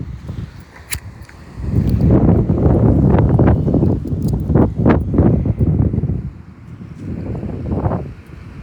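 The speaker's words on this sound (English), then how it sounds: "Man, it's windy." Strong outdoor wind during tree work buffets the microphone in heavy, rumbling gusts that swell and fade over several seconds, loud and close, with no talking.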